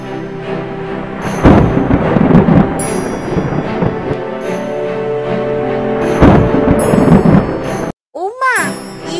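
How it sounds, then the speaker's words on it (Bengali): A storm in an animated Bengali folktale brings loud, sustained rumbling thunder with sharp cracks, heavy and close, broken by a brief pause and a few ringing tones near the end. "সামনে পা রাখলেই তো পরিষ্কার আকাশে বিদ্যুৎ চমকাচ্ছে"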